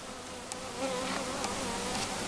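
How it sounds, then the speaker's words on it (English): Honeybees buzz around a new hive, a dense continuous drone of many insects nearby with single bees zipping past now and then. "Busy, busy bees."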